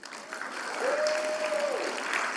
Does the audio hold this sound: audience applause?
yes